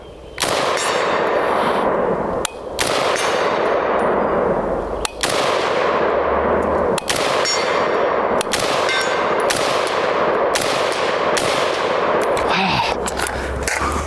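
Sig MCX Spear rifle at an outdoor range firing a steady series of loud, booming shots with ringing clangs, roughly one every second or so, continuing throughout.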